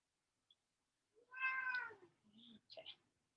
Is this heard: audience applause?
no